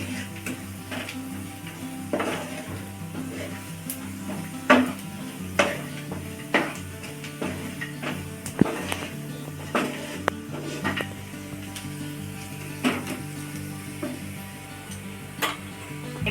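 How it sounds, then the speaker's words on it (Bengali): Chicken butter masala with cumin and coriander powder is stirred in a pan, the spoon clacking and scraping in irregular sharp knocks over a faint sizzle, close and moderately loud. "এবার আমি এটা আর একটু ভালোভাবে নাড়াচাড়া করব"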